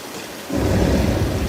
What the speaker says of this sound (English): you got some lightning and thunder, some strobe lights, sound effects. We got the rain.